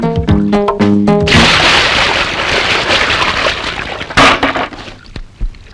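Water is poured out during a hair-wash scene involving shampoo: a steady rushing splash lasting a few seconds follows a short burst of music, then tails off with a couple of knocks.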